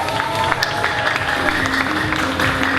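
A crowd at a University of Sheffield Eid party breaks into a dense, steady round of clapping that holds for a few seconds, with voices mixed in underneath.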